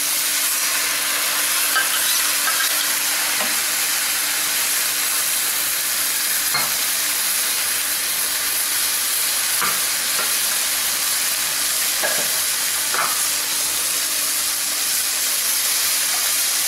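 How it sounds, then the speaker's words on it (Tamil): Vegetables for kurma sautéing directly in a pressure cooker, with a steady sizzling hiss throughout and occasional soft scrapes of a spoon stirring. "குக்கர்லேயே நேரடியாக வதக்கி போடலாம்."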